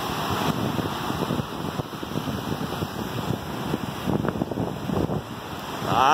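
Ocean waves surging and breaking on a rough day, a continuous roaring wash of water with wind buffeting the microphone, no voices.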